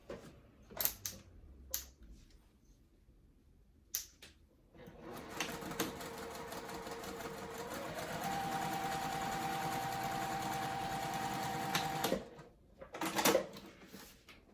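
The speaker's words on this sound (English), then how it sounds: "I'm going to put it at a 4 stitch length and just stitch across the top" A domestic sewing machine top stitching across the tops of card slots on a crossbody bag at a 4 stitch length runs steadily for about seven seconds, bracketed by a few knocks and handling clicks before and after.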